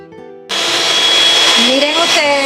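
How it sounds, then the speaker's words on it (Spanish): An electric mixer beats eggs at high speed for a Cuban sponge cake, a loud close steady whine that begins abruptly after a brief musical intro and shifts slightly in pitch as it runs. "Ahora vamos a poner los huevos en nuestro recipiente y los vamos a batir durante 5 minutos"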